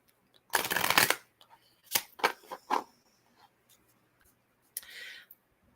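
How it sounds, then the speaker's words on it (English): A deck of tarot cards is riffled and shuffled, with one long fluttering burst and then several shorter snaps and slides at close range. A final softer riffle follows a pause. "One more shuffle."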